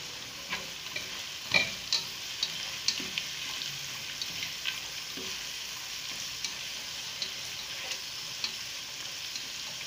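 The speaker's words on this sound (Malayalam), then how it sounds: "ഇതൊന്ന് ചോക്കുന്നത് വരെ നമ്മളൊന്ന് ഇളക്കി കൊടുക്കുക" Horse gram stir-fried in a pan until browned, Kerala-style thoran, a steady sizzle punctuated by regular light scrapes and taps of a spoon stirring.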